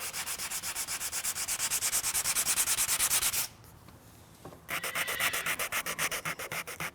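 Steady back-and-forth sanding strokes on a wooden self bow, a rhythmic scratchy rasp that pauses briefly midway, then resumes, close and loud with no talking.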